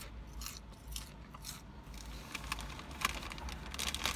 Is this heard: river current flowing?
no